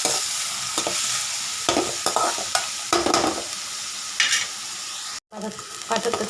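Onions sautéing in a pan before drumstick leaves go in, a continuous close, loud sizzle with repeated scrapes and knocks of a spatula, briefly cutting out for a moment near the end.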